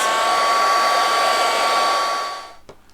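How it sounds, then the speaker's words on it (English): A heat gun blasts a steady, loud rush of hot air to dry stencilled paint, running continuously for over two seconds before cutting off, followed by a faint click. "just going to quickly dry that with a heat gun before applying that next colour of paint"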